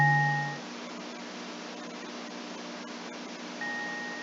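A resonance filter effect is applied to a sound, leaving a steady filtered hiss with thin whistling tones ringing at the start and the end, moderately quiet and without any voices.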